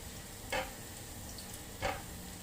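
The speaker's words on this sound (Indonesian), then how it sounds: "Nah, digoreng-goreng dulu guys kayak gini nih." Sliced onion stir-fried in a pan with ginger for crispy spicy chicken, a soft steady sizzle broken by two brief scraping stirs of the spatula, close and fairly quiet.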